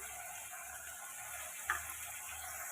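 Spices sauté in a pan for a potato-style curry base, a soft steady sizzle with a single sharp clink of a spoon against the pan midway, fairly quiet and close.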